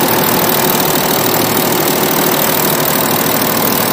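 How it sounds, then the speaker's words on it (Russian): A warmed-up Audi Allroad 3.0 TDI V6 diesel engine idles loudly and steadily, a dense close-up clatter with faint injector ticking and a constant rumble throughout, no voices. "Но сейчас слышится только работа топливки, да, немножко форсуночки цокотят, но это привычная работа."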